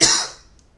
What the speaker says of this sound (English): I just had a dry throat cough that I think my microphone maybe picked up